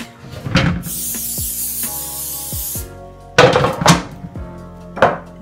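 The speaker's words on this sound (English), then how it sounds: "I'm going to get 2 trays and put some spray on them so they don't stick" Non-stick cooking spray hisses in a short burst onto baking trays while bagels are being made, with nearby clatter and knocks of trays and kitchen items before and after.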